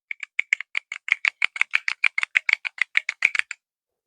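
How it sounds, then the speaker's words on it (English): Rapid, evenly spaced plastic clicks from a keycap fidget toy, like keyboard keys being pressed one after another, about twenty in a row, then silence. "these are to mimic keycaps on a keyboard"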